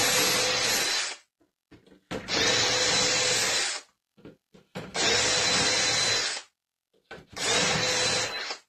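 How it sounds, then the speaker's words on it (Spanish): A power drill bores into wood with a depth stop for shelf pin holes in four long bursts, each a few seconds of steady whine with short quiet pauses between. "empieza con el taladro."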